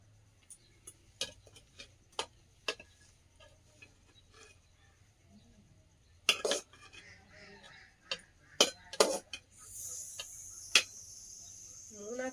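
Dishes and cutlery clink sharply while rice is served at a home meal, with scattered single taps and a denser cluster of louder knocks and scrapes toward the end over a low steady hum.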